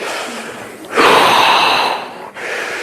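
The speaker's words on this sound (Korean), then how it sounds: "숨은 코로 들여 마시고 입으로 내쉬고" A deep breath drawn in through the nose and let out through the mouth, with a soft, airy rush that swells for about a second and then fades, close and alone.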